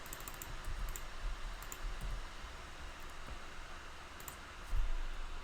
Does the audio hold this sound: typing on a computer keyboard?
yes